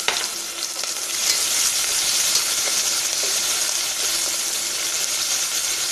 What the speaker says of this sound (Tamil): பெரிய வெங்காயம் சின்ன சைஸ் தான் இருந்தது என்கிட்ட, அதனால அது ஒரு 3-4 எடுத்து நல்லா நீளமாக கட் பண்ணி வச்சுட்டு அதை ஆட் பண்ணிக்கலாம்.